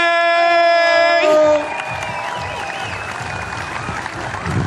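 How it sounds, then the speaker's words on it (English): A crowd bursts into applause and cheering for the 2021 Australian women's champion at a STIHL Timbersports event. A sustained tone cuts off after about a second, then loud clapping with whoops continues to the end. "give a big round of applause for our 2021 Australian Women's Champion, Renee Retschlag!"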